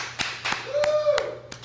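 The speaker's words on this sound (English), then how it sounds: "Little applause for him." A small group in a room gives brief applause, several scattered claps spaced out over a couple of seconds, with a voice briefly speaking under them.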